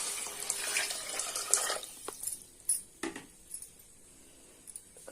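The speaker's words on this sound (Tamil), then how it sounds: "இப்போ குழம்புக்கு தேவையான தண்ணி ஊற்றிடலாம்." Water pours into a pan of Tamil paruppu urundai kulambu, a soft splashing stream for a couple of seconds, then a few clinks and light knocks of a vessel, close and fairly quiet.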